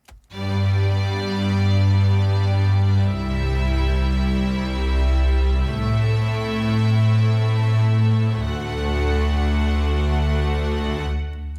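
Sustained orchestral string chords swell and shift slowly, low cellos under layered violins and violas, full and loud with smooth changes between chords.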